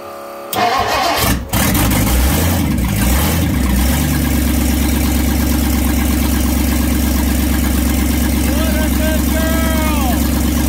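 A 1958 Ford Thunderbird engine cranks briefly, catches and fires up, then settles into a loud, steady idle close by, with small shifts in revs.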